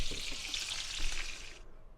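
Burgers sizzle and crackle steadily in a frying pan, close by, with light scraping stirs. The hiss cuts out abruptly near the end.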